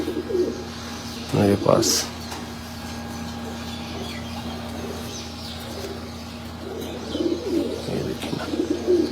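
Pigeons at a breeder's loft coo softly in the background, low steady burbling under someone talking nearby, with a few brief sharper bird sounds.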